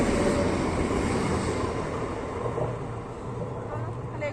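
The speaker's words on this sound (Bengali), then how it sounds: "ট্রেনটা চলে যাক" A passing train makes a steady, broadband rumble that holds for the whole stretch and fades slightly toward the end. It is heard nearby, with no clear voices over it.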